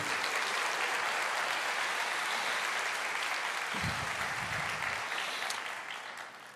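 A church congregation applauds during a sermon, a dense, steady wash of clapping that holds loud and even, then thins and fades toward the end.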